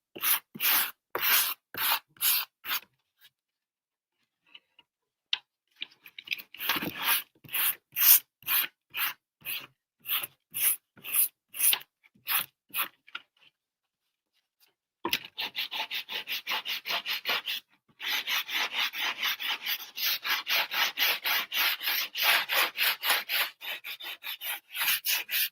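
Hand sanding on a carved wooden Christmas moose gives rhythmic rasping strokes, steady back-and-forth scrapes close up, pausing once before a faster, denser run of short rubs.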